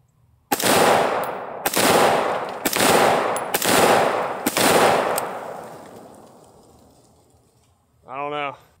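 An AR-15 firing 5.56 rounds at a slab of concrete: five loud, sharp shots in an uneven rapid series, each ringing out with a long fading echo, followed by a short burst of speech.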